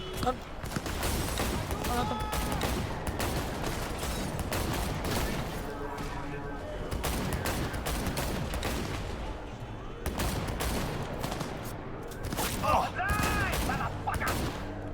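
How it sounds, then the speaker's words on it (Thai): Dense, continuous police gunfire in the video game Cyberpunk 2077: rapid overlapping shots and bursts fill the whole stretch, loud and close, with a voice talking over the shooting. "ตำรวจมายิงผมมายิงผมตำรวจ"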